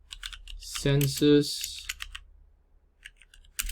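Computer keyboard typing: a few short, crisp clicks scattered around a brief spoken word, fairly close and quiet.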